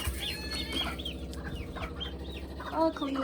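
Chickens cluck inside a coop, with repeated close clucks and squawks, a brief flurry of wing flaps, and soft background murmuring, all fairly quiet.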